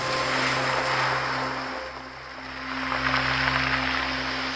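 Ocean surf washes onto the rocky cobble shore of Little Hunters Beach in Acadia National Park, a continuous broad roar that eases briefly and then swells again, with a low steady hum underneath.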